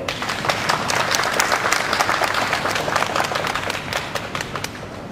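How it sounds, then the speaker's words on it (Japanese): Sustained audience applause for a Toyota robot quartet band at a live show, dense crowd clapping at even strength throughout with no talk. "皆さんどうぞ大きな拍手をお願いいたします。"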